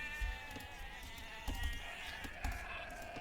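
Sheep bleat in an Age of Empires match, three short, faint nasal calls spaced about a second apart over a soft game background.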